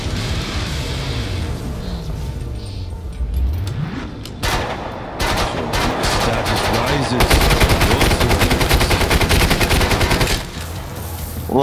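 Rapid automatic gunfire from shooting enemies in the video game Killing Floor 2, a loud, near, continuous stream of shots and bursts building over several seconds, with some deeper booms in the mix.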